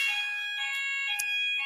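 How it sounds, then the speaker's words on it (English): An indoor fire alarm sounds continuously, a loud, shrill, steady electronic tone with no pause. "Just wait for the fire alarm to stop going off and hope that that is just a drill."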